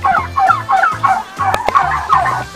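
Turkeys on a farm in Zambales gobble in a loud, close chorus, repeated bursts of warbling calls following one another in quick succession with no talking.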